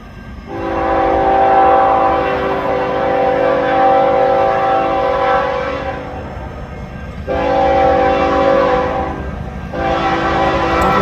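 A CN manifest freight led by GE ES44 locomotives sounds a loud horn in long blasts broken by short gaps as it passes close by a crossing, with rumbling wheels underneath.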